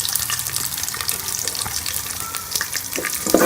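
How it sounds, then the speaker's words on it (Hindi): Onions hit hot ghee in a pan for aloo baingan sabzi, giving a loud, hissing sizzle that runs steadily throughout with a few sharper spits, close up and without speech. "जब हमारा घी गर्म हो जाए तो हम इसके अंदर प्याज डाल देंगे अपनी।"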